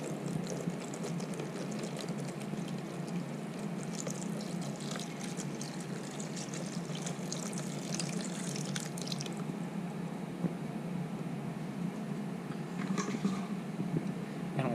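Chrome car emblems soaking in a container of bleach give off a steady low liquid wash with faint intermittent dripping and trickling, continuous throughout and fairly quiet.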